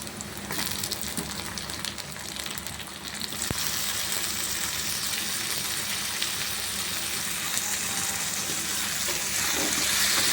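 Tomatoes sautéing in a pan for a ridge gourd vegetable kootu, a steady close sizzle and crackle that grows louder and brighter partway through and keeps going without pause.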